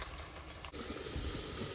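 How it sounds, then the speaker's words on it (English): Half-covered pot of water boiling on the stove while brown rice cooks, giving a steady, close broadband hiss of steam that shifts slightly partway through and then continues evenly. "Pot is halfway covered so it can steam and release some of that water that's boiling at the bottom."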